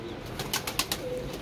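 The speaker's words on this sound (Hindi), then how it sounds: "लो जी कबूतर फड़िया जी" A freshly caught pigeon coos softly, a few low throaty murmurs with faint rustling, close by but quiet over a low background hum.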